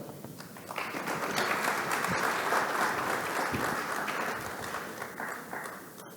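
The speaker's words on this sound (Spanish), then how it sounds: "Fuerte el aplauso." Sustained applause from an audience at a panel on children and adolescents in Panama, welcoming the MIDES general secretary. It is a dense, steady, loud clapping for about six seconds with no break.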